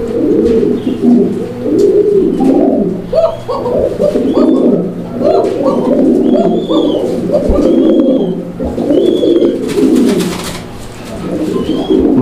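Pigeons cooing close by in a steady overlapping chorus of low, throaty calls, with a few higher chirps scattered among them.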